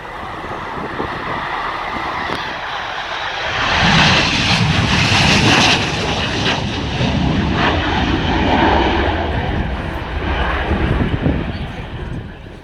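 A Messerschmitt Me 262 jet taxiing out for a solo air display in the UK gives a loud, steady engine roar that swells and holds throughout, with a voice talking over it at moments.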